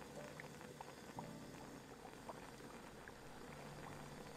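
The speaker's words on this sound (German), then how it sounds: "es fängt langsam an zu blubbern. Man hört es, aber man sieht es noch nicht." Liquid bubbles and simmers steadily in a pot in a beer brewing simulator game, a soft, continuous patter of small pops at low volume with no speech.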